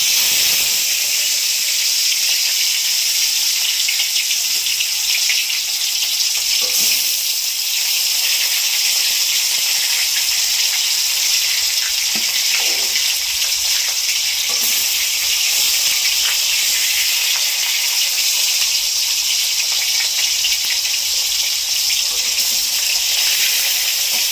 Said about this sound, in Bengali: মাছগুলো তেলে দিয়ে দিচ্ছি